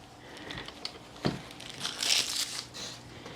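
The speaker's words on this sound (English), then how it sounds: "It's just like a plastic bag. We can open that." A plastic bag around a water softener's power supply is handled, crinkling and rustling in irregular bursts with one sharp crackle, close and fairly quiet.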